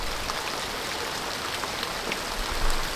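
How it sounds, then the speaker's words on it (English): Rain falls on a farm in the Philippines, a steady close patter with scattered individual drops hitting surfaces, moderately loud and continuous with no voices. "Of course, I was right about the rain."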